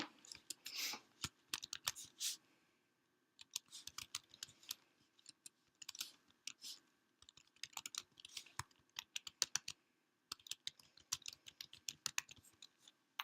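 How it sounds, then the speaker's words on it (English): Irregular bursts of quick, close key clicks come from typing on a computer keyboard, with short pauses between runs. "actually I'm going to type this."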